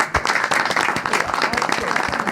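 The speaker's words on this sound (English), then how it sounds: "we should clap for all of us here today" An audience at a women's sports summit in Bilbao breaks into a short burst of applause, with dense clapping throughout and voices mixed in.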